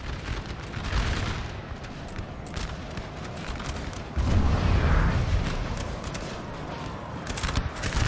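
Artillery fire in Napoleon Total War pounds a French infantry line, heard as a dense, continuous roar of booms and gunfire with a heavier swell midway through, steady and loud throughout.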